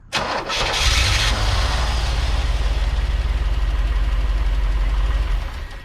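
A 1985 Chevy Corvette engine that sat parked for 20 years cranks and catches, then settles into a loud, rough, steady idle close by with a slight knocking pulse.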